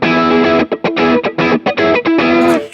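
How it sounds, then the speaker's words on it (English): An electric guitar played through a JHS hard clipping distortion pedal in AmpliTube 5 software, giving a loud, gritty, saturated tone in a run of choppy sustained notes and chords. "You can definitely see the clipping there"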